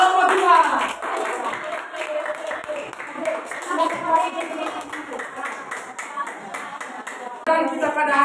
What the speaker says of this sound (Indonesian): Kita berikan tepuk tangan buat kelompok 2.